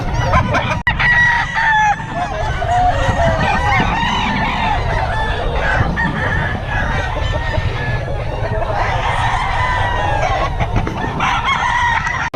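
Chickens and roosters at a poultry market crow and cluck loudly and continuously, with several birds overlapping in a busy, close din under faint background chatter.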